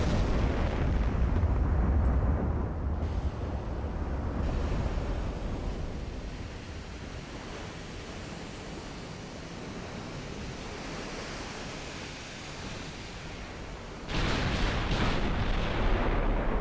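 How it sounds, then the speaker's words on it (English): Naval gunfire from warships in the game Ultimate Admiral: Dreadnoughts, including 14-inch guns exchanging shots with a heavy cruiser at long range, comes through as a loud, continuous rumbling roar with a heavier burst near the end. "He's returning fire now."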